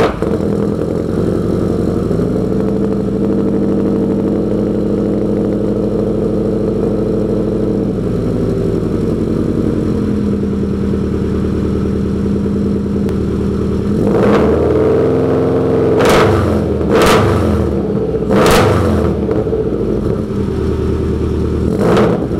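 A Subaru GC8 rally car engine idles steadily with a deep rumble through a newly finished exhaust, then revs up sharply several times in quick bursts near the end, loud and close.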